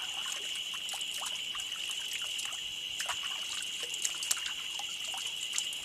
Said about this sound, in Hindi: चलो मैं इस पानी से अपनी प्यास बुझा लूँ, क्योंकि सुबह से मुझे पानी नहीं मिला है।